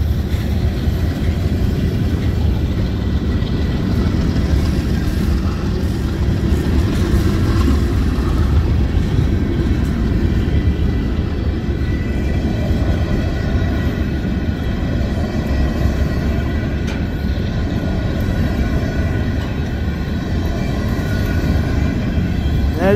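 A CN ES44DC freight locomotive, fitted for distributed power, throttles up at West Ladysmith with a sustained, loud, low diesel rumble. The drone stays steady and fills the whole stretch, with no talk over it.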